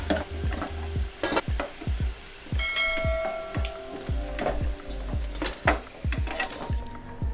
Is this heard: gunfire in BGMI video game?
no